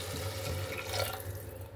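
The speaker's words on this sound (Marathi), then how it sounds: "त्यामध्ये घालते पाणी, 1 ग्लास पाणी घेतले मी।" A glass of water poured into a pot of khichdi makes a steady, soft, splashing gush for under two seconds, fairly faint and close, with no talking.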